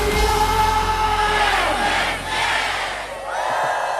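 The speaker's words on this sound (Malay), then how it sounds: "Tuan-puan berikan tepukan yang lebih gemuruh lagi tuan-puan." A large audience cheers and shouts in a sustained roaring wave that swells and dips, loud throughout with a brief lull near the end.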